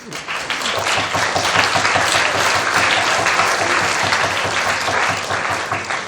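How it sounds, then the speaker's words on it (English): Dense, even applause from a university audience at a materials course evaluation, continuous clapping from many hands at close range, sustained for several seconds without talk. "I think we can have a special applause"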